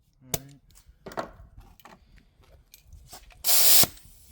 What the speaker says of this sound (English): I'm just gonna blow out any grease.